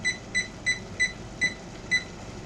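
A kitchen timer being set for ten minutes gives six short, evenly spaced electronic beeps at a steady rhythm, close and clear over a faint background hum, with no talking.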